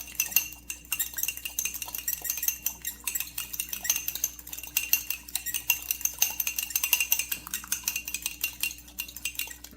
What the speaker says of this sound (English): Gonna crack that egg into that same cup that I had the butter in, and I'm just gonna scramble it really well